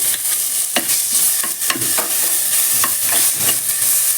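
Ginger garlic paste fries in a pan for ghee chicken pulao, a loud close sizzle broken by repeated scraping strokes of a spoon against the metal.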